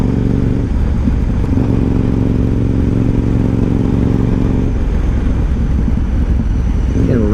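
A 2012 KTM 990 SMT supermoto touring motorcycle engine heard while riding, a loud, close, steady drone that rises in pitch as the bike accelerates near the end.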